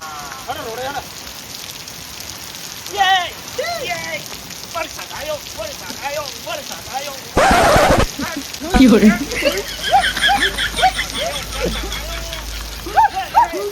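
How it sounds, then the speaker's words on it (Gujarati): A light rain shower falls on surfaces outdoors, a steady soft patter with occasional heavier splashes, heard alongside people talking nearby. "સરસ મજાનો થોડો વરસાદ આવી ગયો"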